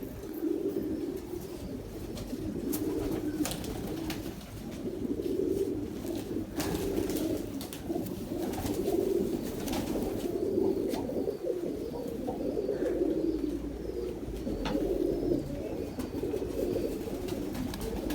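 Pigeons coo in low, soft repeating phrases, several birds close by, with occasional rustles and faint background noise.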